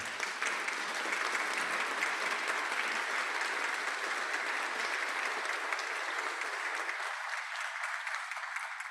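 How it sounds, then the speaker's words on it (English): A conference audience at an annual meeting panel gives a steady round of applause, moderately distant and even throughout, with no speech over it. "all of us should give them a great round of applause"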